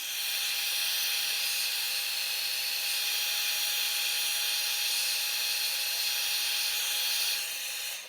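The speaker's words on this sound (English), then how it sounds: "I'm going to use my heat gun, and I'm going to heat them up and place them down" A heat gun blows hot air over stencils laid on a sneaker, a loud steady hiss with a faint high whine that runs without a break and eases off at the very end.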